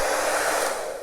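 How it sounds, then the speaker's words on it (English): A fairly new hair dryer runs steadily and loud, a constant breathy blowing whoosh with no voices over it. "This is still quite a new hairdryer, by the way."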